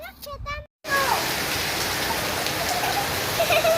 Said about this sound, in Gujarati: કેવો વરસાદ આવે છે?